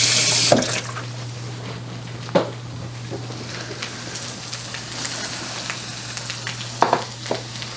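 Zucchini and corn fritters sizzle in a pan, a steady close hiss of frying with a few scattered clinks and bumps, no voices.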